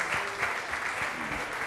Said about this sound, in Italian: un applauso alla nostra Carlotta!